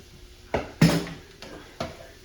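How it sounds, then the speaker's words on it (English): Sausage tossed back into a pan with fragrant garlic for a Hungarian lecsó stew, a few sharp clanks and scrapes of utensil against the pan over a low sizzle, close by with no talking. "throw your sausage back in there."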